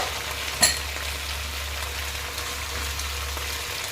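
Vegetables and soaked meal maker chunks frying in a pan over a high flame give a steady, close sizzle throughout, with one brief sharp clink early on.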